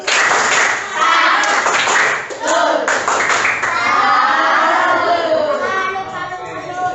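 Schoolchildren in a classroom doing a patterned 'tepuk salut' clap for a group, sharp rhythmic claps in short bursts, with children's voices and chatter mixed in.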